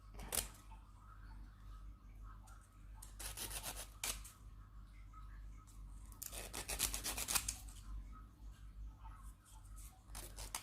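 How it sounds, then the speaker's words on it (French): Resin pieces being lightly filed with a nail file to smooth rough edges, heard as several short bursts of close, dry rasping separated by quiet pauses over a low steady background hum. "avec une lime, je viens juste effleurer pour leur donner un joli côté"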